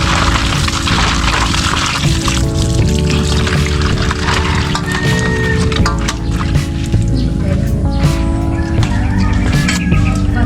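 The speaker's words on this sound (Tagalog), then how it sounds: "Hugasan ko na lang yung tilapia. Siyempre dyan tayo sa gripo." Tap water runs and splashes continuously while tilapia is rinsed under a faucet, a loud steady gush with sloshing, overlaid by tonal background sounds.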